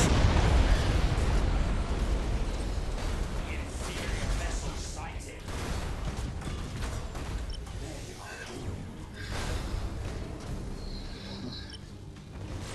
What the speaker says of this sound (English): they're shooting both battleships at the same time